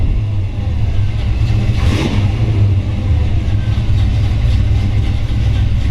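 A 1955 Chevrolet Bel Air two-door hardtop resto-mod runs close by with a loud, lumpy idle, its low rumble steady throughout apart from a brief rise near the two-second mark.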